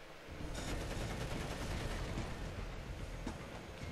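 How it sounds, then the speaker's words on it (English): Minigun fire in the video game Crackdown 2: a dense, continuous roar of rapid gunfire with heavy booming underneath, loud and unbroken for several seconds, with no voices. "I got him with a minigun."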